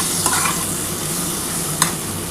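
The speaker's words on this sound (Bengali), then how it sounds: "এবার আলুটার সাথে খুব ভালোভাবে মশলাটা কষিয়ে নিতে হবে।" Fried potatoes being stirred and sautéed in spice paste for katla fish curry, a steady close sizzle with a couple of sharp spoon scrapes against the pan, no voices.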